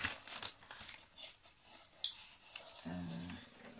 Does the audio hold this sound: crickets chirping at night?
no